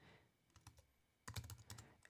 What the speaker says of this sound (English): I'm going to just type in graphic titles.